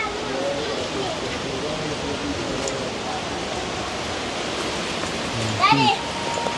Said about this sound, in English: Alright guys, so the rain kind of ease up now